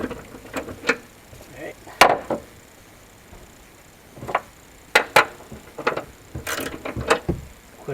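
A ratchet works on the rear shock absorber nut of a 2016-2017 Lexus IS, giving scattered sharp metallic clicks and clunks in short bursts with quiet gaps between them, close to the ear.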